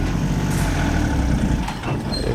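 A pickup truck stuck in mud holds a steady, loud engine roar as it strains against the ground, a low continuous drone with no voices.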